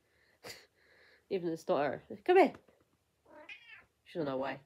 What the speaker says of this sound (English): Oh, here comes my cat.